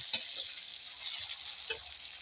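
Coarsely chopped garlic and ginger frying in oil in a pan for matar masala, a steady bright sizzle with a few light clicks of stirring, close and alone.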